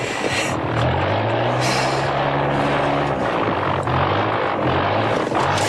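A propeller plane drones loud and close, its engine hum steady and throbbing with a low, wavering buzz and rushing wind noise, no voices heard.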